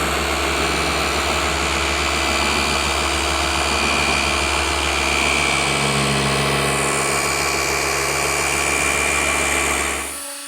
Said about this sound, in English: That's the polishing now done on this rear quarter.